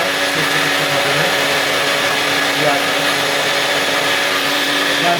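A Philips 5000 Series 1200W blender runs steadily at full speed, a loud, dense whirring roar that holds constant throughout with no breaks, close to the listener.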